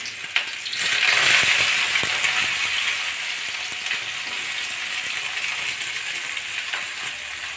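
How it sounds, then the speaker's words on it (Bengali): Chopped garlic and onion hit hot oil in a pan for an egg and vegetable fry, bursting into a loud, dense sizzle that gradually settles into a steady hiss with light stirring ticks. "এবার দিয়ে দিচ্ছি রসুন কুচি আর দিয়ে দিচ্ছি পেঁয়াজ কুচানো"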